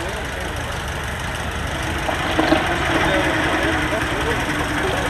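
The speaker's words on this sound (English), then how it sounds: "Listen to that engine as it turns around there." A Model T Ford engine runs at a steady, rough idle at a classic and vintage motor show, its low mechanical chugging continuous and close, with a voice talking over it.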